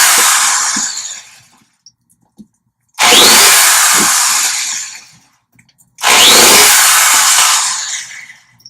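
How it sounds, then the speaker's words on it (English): Three long bursts of an electric drill whining at high speed as it drills holes in the bottom of a tough plastic container, each about two seconds, with short quiet gaps and small knocks between them. "I'm just going to drill some holes in the bottom."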